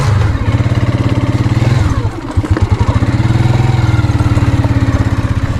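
An irrigation water pump engine runs close by with a steady, loud pulsing chug, briefly faltering and sputtering for a moment before settling back into its even rhythm.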